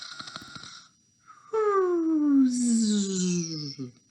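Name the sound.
narrator imitating snoring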